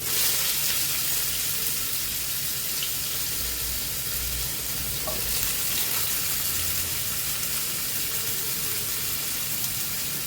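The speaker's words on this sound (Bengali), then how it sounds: "এবার আমি রসুন কুচিটা দিয়ে দিচ্ছি।" Chopped garlic hits hot oil in a pan while cooking a vegetarian soybean, paneer and mushroom curry, giving a steady, even sizzle that holds at a moderate level throughout with no voices.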